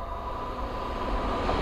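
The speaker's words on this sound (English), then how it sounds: "the next train to pass by is a pair of Super Warriors Class 221s" A pair of Class 221 diesel trains rumble past nearby at Linslade on the West Coast Main Line with a steady low roar and a faint whine, the sound holding level throughout.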